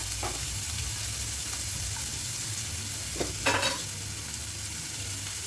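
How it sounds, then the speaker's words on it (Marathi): Curry leaves, onion and chili fry in a pan for upma, giving a steady, fairly quiet sizzle throughout with a brief louder crackle near the end; no one speaks. "कढीपत्ता टाकूया कांदा मिरची टाकूया बघा आणि मला परतून घेऊया"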